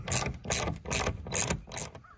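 A ratchet wrench tightens a lag bolt into a wall while fitting a long Starlink wall mount, giving five evenly spaced bursts of rapid pawl clicking, close and fairly loud, with short pauses between strokes.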